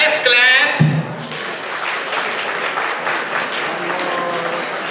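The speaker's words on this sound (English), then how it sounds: "Guys, clap." Dancers at a mental health awareness fundraiser get steady applause from the audience: dense, sustained clapping that follows a brief voice and some musical tones at the start and holds evenly to the end.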